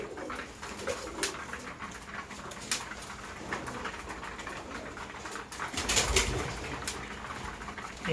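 Female pigeons coo softly while coming down one by one to drink water in a tournament pigeon loft, with occasional wing flaps and light pattering among the close, steady cooing.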